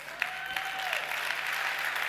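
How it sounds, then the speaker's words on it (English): Applause from an audience at the S.Pellegrino Young Chef 2018 event for Tom Walker, a dense wash of clapping building steadily and held at moderate loudness. "a huge round of applause for Tom Walker"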